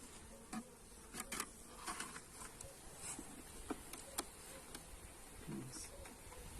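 Many honeybees buzz steadily close by around a hive, a dense droning hum with occasional individual insects passing near, under soft tapping and no speech.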